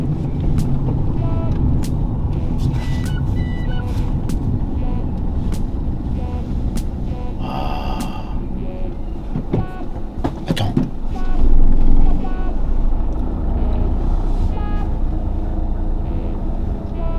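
Brakes on a Peugeot 208 with brand-new pads give a brief squeal amid road noise near a station, mixed with clicks and rumbling from the car as it slows and turns around.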